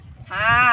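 A goat gives a single short, clear bleat, near and fairly loud, after a brief moment of low background noise.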